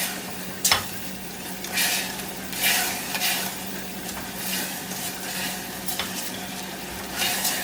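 Soy sauce deglazing a hot pan, with stirring to scrape up the browned bits from the bottom: a steady sizzle and hiss broken by sharp scraping and stirring strokes at irregular intervals, close and fairly loud.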